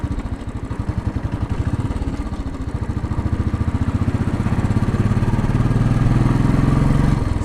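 A Royal Enfield Bullet motorcycle engine thumps steadily as it accelerates to a cruising speed of about 30 mph on city streets. The loud, close single-cylinder beat quickens and grows slightly louder over time.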